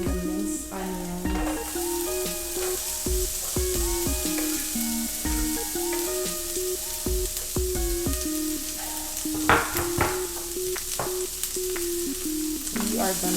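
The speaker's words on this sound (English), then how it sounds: "We are going to stir these until it has that translucent color" Minced garlic and minced onion sizzle in a pot with a continuous close frying hiss, broken up by frequent scraping and knocking strokes of a stirring utensil. No voice is heard.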